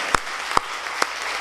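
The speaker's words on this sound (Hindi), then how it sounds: "एक बार पूरा सदन दोनों हाथ उठाकर तालियां बजाकर मुझे आदेशित करें।" Applause from a hall audience at a Hindi poetry gathering: a steady background of clapping with three loud, sharp, evenly spaced claps close by.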